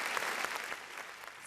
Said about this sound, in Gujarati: જેમણે તાળી નથી પાડી એ બાકીના બધા પાડી દે